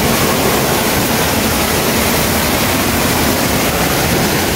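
River water pours into a tunnel with a loud, steady, broadband rushing roar that stays constant and close throughout, with no voices.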